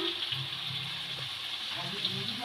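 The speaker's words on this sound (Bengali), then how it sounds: "এঁচোড়টাকে পেঁয়াজের সাথে খুব ভালো করে নেড়ে চেড়ে নেব।" Young jackfruit stir-fries with onions in a pan, a soft continuous sizzle with low scraping stir strokes and a faint hum beneath.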